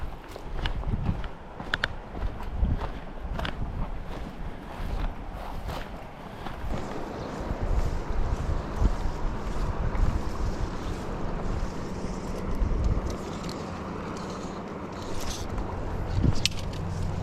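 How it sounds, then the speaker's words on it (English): A swollen, raging river in central Oregon rushes past while someone fly fishes, a steady broadband roar of water with gusty wind buffeting the microphone throughout. "This is a raging river today"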